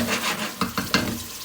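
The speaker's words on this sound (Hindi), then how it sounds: "जैसा कि आप देख सकते हैं प्याज हमारा ब्राउन हो गया अच्छी तरह से।" Onions browning in hot oil for mash daal, a soft sizzle with a few scraping stirs of a spoon in the pan, close and fairly quiet with no voices.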